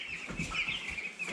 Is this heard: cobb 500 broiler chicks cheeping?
yes